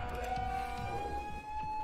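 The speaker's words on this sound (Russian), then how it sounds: "давай, давай, давай, поднимай сирены" Alarm sirens in the video game Wolfenstein II: The New Colossus, a steady sustained tone wailing continuously over a low rumble of game ambience, no voices.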